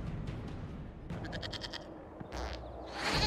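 Goat bleats in the Dragon Age: Inquisition video game, a few broken, wavering cries in the middle with no speech, followed by a louder burst near the end.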